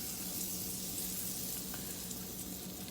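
Butter sizzling in a hot frying pan as toast for egg-in-toast is prepared, a dense continuous hiss close up with faint pops, steady throughout and no one talking.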